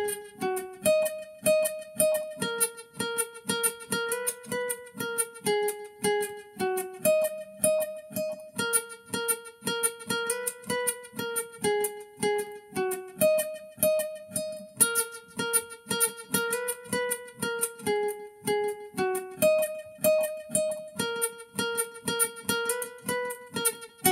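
A bright plucked guitar melody of a song played straight through, steady rhythm with repeating phrases and clear sustained notes, no voices.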